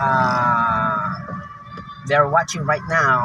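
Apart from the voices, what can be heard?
Philippine Army camp siren sounding the hour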